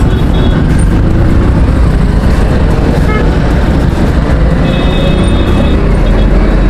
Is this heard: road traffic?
yes